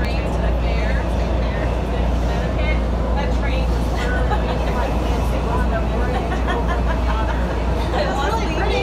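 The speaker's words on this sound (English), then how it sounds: "Are you on the metro train?" Continuous rumble of a Washington DC metro train in motion, a steady loud low drone with rattling and background chatter throughout.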